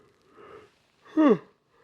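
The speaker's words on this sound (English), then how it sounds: "Sorry about the yawning, guys" A single person yawns close up, a brief breathy inhale followed by a short drawn-out voiced sigh that slides downward, with quiet pauses before and after.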